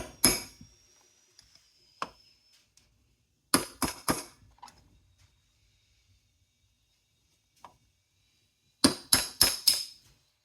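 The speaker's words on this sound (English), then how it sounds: "you can see we're just kind of forcing the bolt through" A bolt forced through a roller skate plate mount gives sharp metallic clicks and knocks, some single and others in quick bursts of three or four, separated by near silence, close and fairly loud.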